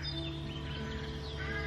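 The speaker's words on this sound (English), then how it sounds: "the birds are singing" Birds singing in the morning, faint chirps and short whistled calls over a steady low hum, at a distance.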